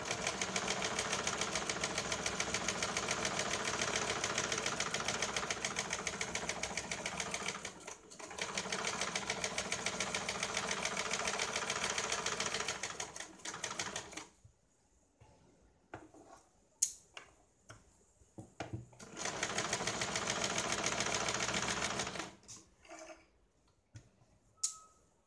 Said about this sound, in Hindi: अभी यहाँ पे हमें यह डबल सिलाई लगानी है।